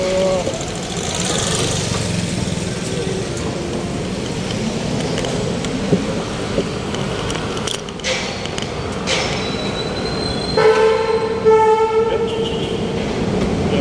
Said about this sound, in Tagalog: LRT to, nasa taas